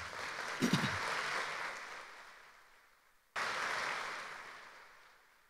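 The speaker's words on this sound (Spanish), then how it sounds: "Dele un aplauso al Señor, por favor." Church congregation applauding at a worship service: two waves of clapping from a large crowd, each one swelling and then fading away, with the second wave starting suddenly after a brief lull. A few voices cheer at the start of the first wave.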